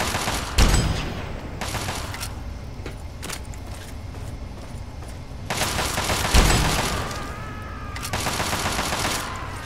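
Gunfire in Fallout 3, sharp close shots and bursts that recur across the stretch over a continuous noisy game background, with a few loud impacts standing out.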